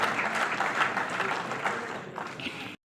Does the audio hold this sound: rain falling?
no